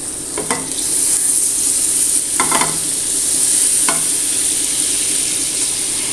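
Butter sizzling in hot oil in an omelette pan, a steady bright frying hiss throughout with a few clinks of a utensil against the pan.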